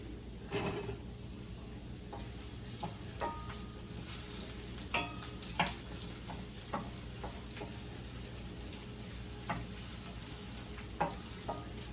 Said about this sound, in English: So we're gonna go ahead and drop the onion in.